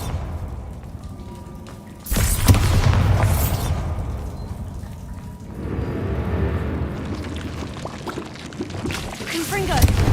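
The Bombarda blasting spell explodes in a video game, two heavy booming blasts, each a broad roaring burst that swells and slowly decays, with a voice calling out over the noise.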